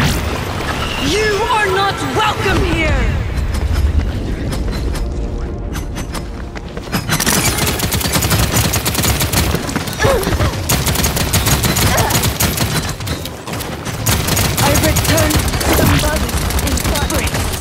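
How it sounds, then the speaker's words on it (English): Enemy gunfire in Paladins, rapid bursts of shots and blasts mixed with game effects, loud and dense, with voices talking over the action. "Enemies are firing on me."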